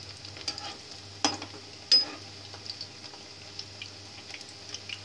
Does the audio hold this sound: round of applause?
no